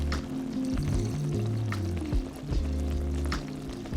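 Water is poured into a pot of vegetable broth at a wild campsite on a Japanese island, a close gurgling splash with bubbling for a few seconds, alone with no talk.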